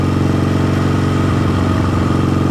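A 1972 Yamaha XS2 650cc motorcycle rides along with a loud, steady, close engine drone and throbbing exhaust pulse throughout, and no voices.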